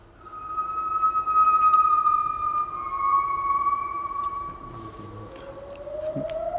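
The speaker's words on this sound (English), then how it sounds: "that eerie, beautiful, haunting sound is the sound of the gibbon, in fact, in the wildest jungles" A gibbon calls with long, eerie, siren-like tones that hold and glide, then sweep upward at the end. The call plays loud and clear with no talk over it.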